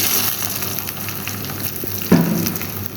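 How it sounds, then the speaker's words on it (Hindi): Onions sputter and crackle in hot oil for a haleem tempering, a loud, close, continuous fry with one sharp clunk near the end and no speech. "ये देखिए प्याज हम इसमें डाल रहे हैं ऑयल में।"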